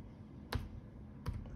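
Two separate, close keystrokes on a laptop keyboard while a disk command is entered during a Windows 11 install, each a short sharp tap over a low steady hum.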